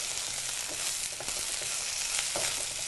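Salted okra curry being stirred in a pan, giving a dense, even sizzle throughout with faint scraping of the spoon mixed in, no voices.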